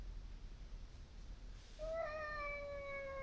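A single cat meows once, a clear drawn-out cry that rises and holds, heard close against a quiet background with low rumble.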